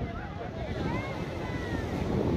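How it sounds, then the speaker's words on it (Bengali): Sea waves wash in on Old Digha beach among boulders, a constant rumbling surf mixed with gusty wind buffeting close by. "ঢেউ আসছে"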